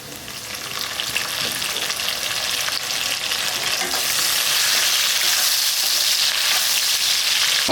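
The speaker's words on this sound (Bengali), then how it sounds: "এবার যে কেটে রাখা টমেটোটাকে দিয়ে দেবো।" Chopped tomato hits fried onions in a hot pan for the fish curry, giving a steady, loud sizzle and crackle of frying oil that builds and holds throughout, with occasional stirring and no voices.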